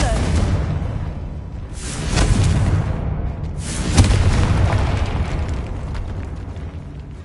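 The Confringo blasting curse going off in the Hogwarts Legacy video game makes two heavy booming explosions with whooshing bursts that roll into a long rumbling tail, loud and close.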